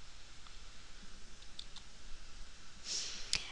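Computer mouse clicks on a link during a WordPress update, a few faint, sparse clicks against a quiet background, with one sharper click near the end.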